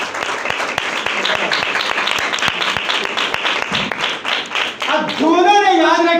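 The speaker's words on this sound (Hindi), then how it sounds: "तालियां बजाने दी।" Congregation clapping during a preacher's church sermon, rapid crowded claps filling most of the stretch at close range, before a voice resumes speaking over the fading applause.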